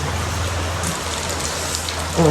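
Rain falls steadily in a continuous hiss over a low background hum, with a slightly louder patch of drops at the end.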